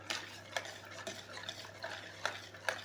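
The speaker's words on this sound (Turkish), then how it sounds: "Şimdi yağım ve yoğurdumu bir karıştırıyorum diğer malzemelerimi almadan önce." Oil and yogurt stirred together in a bowl for eggless cookie dough, with soft scraping strokes and a few light utensil taps against the bowl, close and quiet.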